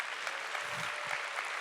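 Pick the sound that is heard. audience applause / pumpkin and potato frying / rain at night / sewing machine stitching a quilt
audience applause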